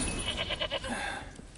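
A goat bleats in The Witcher 3 video game, a short run of quick, wavering bleats at moderate loudness over a steady game ambience, with no talking.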